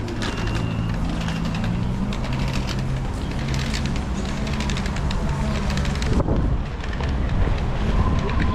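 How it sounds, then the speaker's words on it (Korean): Cold winter wind buffets the microphone outdoors at a street rally, a loud, steady rumbling roar that breaks off briefly near the end and then returns. "바람이 불어가지고 체감 온도는 마이너스 17도를 지금 가르치고 있습니다"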